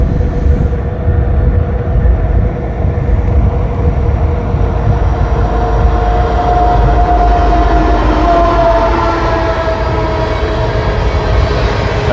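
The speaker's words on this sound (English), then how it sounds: "Oh, there's a train over there." A train rolls past at night in Henry County near Atlanta, a loud steady rumble of rail cars with a faint horn-like tone drifting in, heard from a nearby road.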